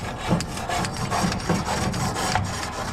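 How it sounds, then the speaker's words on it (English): Repeated scraping strokes of a grill brush scrubbing the grates of an Oklahoma Joe's Canyon Combo gas and offset smoker, a steady rhythmic bristle rub heard close up with no talking. "So I'm just using my grill brush."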